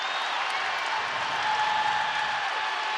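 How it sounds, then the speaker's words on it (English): A baseball crowd at Angel Stadium roars in a steady, dense wash of cheering and applause, loud and continuous with no breaks. "This crowd makes some noise right now."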